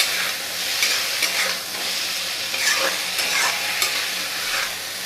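Homemade ground spices such as coriander and cumin powder, with green chillies, sizzle and crackle steadily in hot oil while being stirred, a close, continuous frying hiss with no talk.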